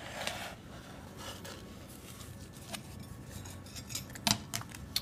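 A metal samosa cutter shaken upside down to free cut tuna samosas, giving soft clinks, taps and rustles across a quiet, close background with no speech.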